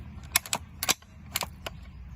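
Sharp metallic clacks from handling a Jaeger .22 rifle as the bolt is released, a few separate close clicks spaced irregularly over a quiet background, no talking.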